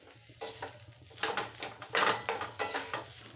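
A spatula stirs potato filling in a pan on low heat, a soft sizzle under repeated scraping and clinking strokes against the pan, close and steady.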